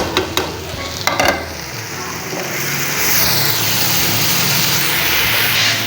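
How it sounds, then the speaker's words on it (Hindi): Red chili powder and turmeric powder frying in oil in a pan, a steady broad sizzle that swells and holds loud, with a few sharp stirring scrapes near the start. "ये देखें हमारी मिर्च की बनाई हो रही है।"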